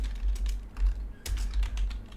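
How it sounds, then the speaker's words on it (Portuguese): Someone types a name on a computer keyboard while renaming an item in Excel, producing brisk irregular key clicks over about two seconds with a steady low hum beneath and no talking. "eu posso digitar o nome que eu quiser"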